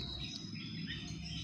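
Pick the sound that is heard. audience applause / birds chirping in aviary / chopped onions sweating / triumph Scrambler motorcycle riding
birds chirping in aviary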